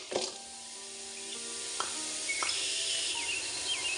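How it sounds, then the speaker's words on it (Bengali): Jaggery heats in a pot on a stove with a soft, faint sizzle and a few light clinks, steady and close, with no talking. "এবার আমি এখানে গুড় দিয়ে দিচ্ছি।"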